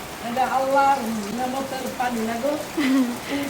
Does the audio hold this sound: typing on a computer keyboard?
no